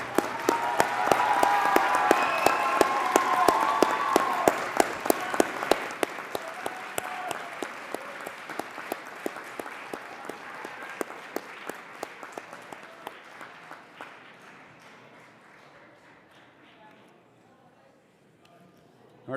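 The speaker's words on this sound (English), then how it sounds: "turn and face those people that have supported you and give them a round of applause" Graduation ceremony audience breaks into loud, dense applause that holds steady for several seconds, then thins to scattered claps and fades out near the end.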